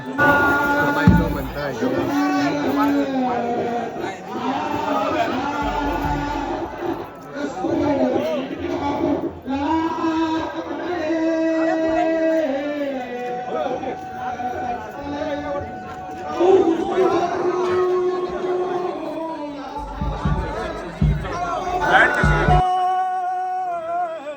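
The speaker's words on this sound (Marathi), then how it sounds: "गर्दी कधीच्या कधी झाली ना" Crowd chatter fills a busy food street lane in Kankavli, a dense babble of many voices mixed with nearby talk and background music throughout.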